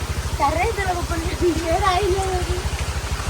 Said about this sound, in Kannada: ಫುಲ್ಲು ಜೋರ್ ಮಳೆ ಸಡನ್ ಮಳೆ ಬಂತು